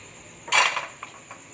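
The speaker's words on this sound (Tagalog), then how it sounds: "Ngayon naman, nagpiprito tayo ng ham." Pans and metal utensils clatter sharply in a kitchen while getting ready to fry ham, a loud burst of clanking followed by two lighter clinks, with no talk.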